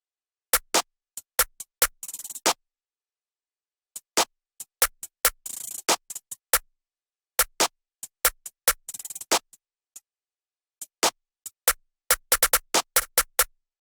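Programmed trap-style drum loop with punchy snares and claps hitting hard over crisp, rapid hi-hats, plus short rolled bursts near the end; steady and close, with no voice.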